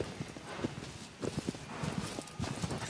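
Horse hooves clip-clop in a steady walking rhythm across the Shadow of the Colossus video game world, close and moderately loud over an ambient outdoor bed, with no talk.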